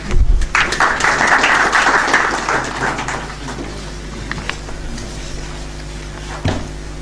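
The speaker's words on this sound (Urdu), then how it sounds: "جنہوں نے لے لیا وہ تالیاں بھی بجا سکتے" Audience applause at a closing ceremony for management training sessions, a dense burst of many hands clapping that swells loud for about three seconds, then fades to scattered claps with a brief renewed flurry near the end.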